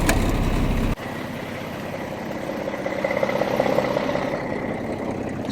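A 2023 Kenworth T680 truck engine idles steadily nearby, a continuous low rumble with a faint whine, after a brief louder burst at the start.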